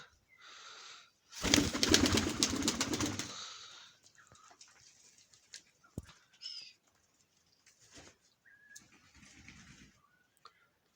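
Yellow marbled Baku pigeons are heard in a loft: a burst of wing flapping early on, then soft, scattered coos and faint rustling in a quiet space.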